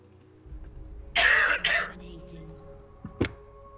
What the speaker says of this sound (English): Is that your boyfriend coughing up a lung over there?